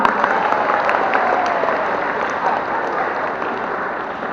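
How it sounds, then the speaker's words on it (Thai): A room of students at a Thai etiquette training class breaks into applause, a dense, even wash of many hands clapping at once, loud and sustained without pause from start to finish. "ปรบมือให้หน่อย"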